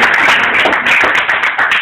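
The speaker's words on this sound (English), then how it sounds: "Give them a hand of applause" An audience claps through a celebration honoring a woman of the year, with steady, dense crowd applause that stays loud and close throughout.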